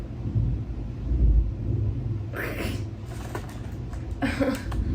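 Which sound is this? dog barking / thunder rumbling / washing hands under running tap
thunder rumbling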